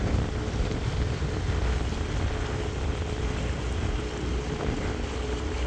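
Strong wind buffets the microphone in a continuous, loud roar while a barrel boat cruises at about 4.5 miles an hour, with a faint low hum of the craft beneath.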